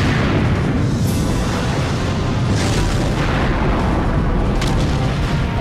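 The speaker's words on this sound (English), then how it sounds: "The cannon's about ready to fire." Cannon blast in the video game Sonic Adventure 2 Battle, a loud, continuous roaring explosion with sharp bursts partway through.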